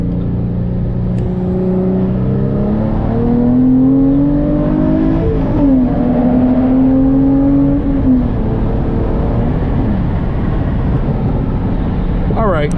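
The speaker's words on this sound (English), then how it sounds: "Let's be quiet for a second and enjoy the sounds of this beautiful V6" A Hyundai Genesis Coupe's 3.8-liter V6 revs up and down several times, rising and falling in pitch over a steady idle, heard up close from inside the car.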